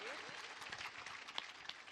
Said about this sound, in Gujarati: ભાવથી તાળી પાડીને વધાવી દઈએ